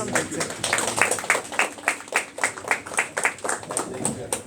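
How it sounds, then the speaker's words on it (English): Round of applause at a farewell gathering on the RasGas Alpha offshore platform, with steady rhythmic clapping from a small group carrying on throughout, close and moderately loud. "Let's give him a big round of applause."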